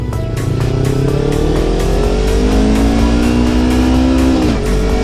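A car engine holds a loud, steady drone as the revs climb and shift across several gear changes, ending with a quick drop in pitch as it downshifts under braking.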